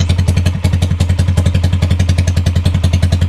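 A TMX 155 motorcycle engine runs loudly and close by, with a fast, even thumping beat and metallic clatter repeating steadily throughout.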